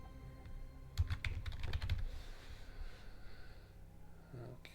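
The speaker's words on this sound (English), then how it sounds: "I've got a wireless keyboard, and I think the battery's getting low because it just does random letters when I type." A wireless computer keyboard with a low battery is typed on in a quick, quiet burst of clicking keys, followed by faint breathing and soft background noise.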